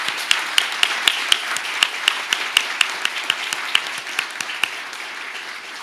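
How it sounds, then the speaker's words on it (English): A small audience at a meeting applauds a panel, with a thin, fairly close round of clapping in which individual claps stand out as crisp, evenly spaced beats, continuing steadily and easing slightly toward the end. "I'm going to invite you to give our panel a round of applause and thank them."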